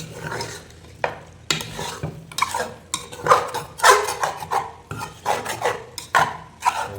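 A spoon scrapes and stirs mutton with masala in a pot for potato mutton dum biryani, making repeated close rasping strokes in an uneven rhythm with bursts of sizzle and metallic scraping.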